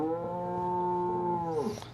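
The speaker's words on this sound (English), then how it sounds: "The little cow goes, what?" A single cow moos in one sustained, tonal call of about two seconds, loud and close, ending with a short breathy falloff.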